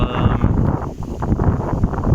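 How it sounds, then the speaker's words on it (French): Strong outdoor wind buffets the microphone, making a low, rumbling roar that surges and fades across the short stretch, with no clear speech. "je ne sais pas que vous m'entendez parce qu'il y a pas mal de vent"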